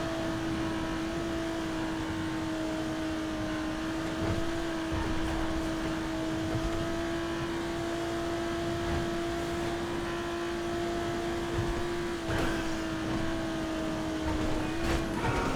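A Jester RR car drives in GTA 5, its engine holding a steady, sustained drone through a long stretch, loud and constant, with faint scuffs and knocks now and then.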